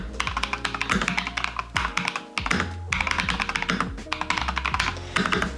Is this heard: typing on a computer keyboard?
yes